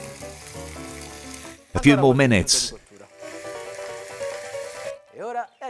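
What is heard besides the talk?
chicken frying in oil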